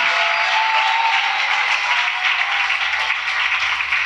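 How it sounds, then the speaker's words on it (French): Church congregation clapping and applauding together, a dense, steady wash of hand claps sustained at even loudness throughout with no voices standing out. "Give the Lord a big clap offering."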